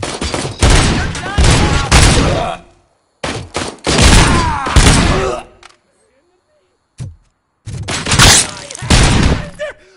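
Loud bursts of gunfire in RoboCop: Rogue City come in several clusters separated by short silences, close and punchy, with in-game shouting mixed in.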